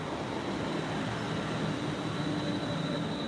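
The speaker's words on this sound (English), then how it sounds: "But the train is coming in now" A train rumbles steadily as it pulls in, a continuous dense roar with a faint high whine riding over it.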